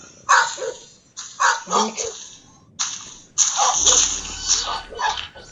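A dog barks in the video game SchoolBoy Runaway, a few sharp bursts, then a longer run of loud barking, fairly close with a faint splashing bed underneath.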